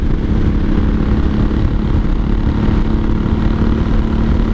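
A 1983 Honda Shadow VT750C V-twin engine running at wide open throttle in fourth gear roars steadily and loudly, with a constant deep drone and rushing wind throughout.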